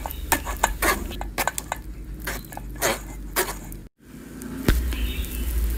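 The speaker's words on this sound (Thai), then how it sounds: "วันนี้จะใช้ทัพพีนะคะกดบี้ๆลงไปค่ะให้เนื้อมันลอดผ่านกระชอน" A ladle presses and scrapes Khanom Tian dessert filling through a mesh sieve, giving soft squishy pushes with scattered clinks and taps of metal against the strainer and bowl, close up, with a brief pause near the end.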